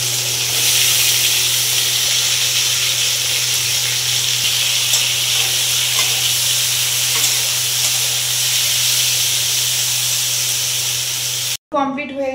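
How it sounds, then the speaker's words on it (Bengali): Tangra fish frying in a covered pan give off a steady, loud hiss and sizzle that runs unbroken for most of the stretch, then cuts off abruptly near the end. "ট্যাংরা মাছগুলো এত ফোটে, সেই জন্য আমি ঢাকা চাপা দিয়ে হচ্ছে ভাজা করছিলাম"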